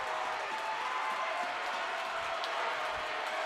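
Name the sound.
student section crowd cheering at a basketball game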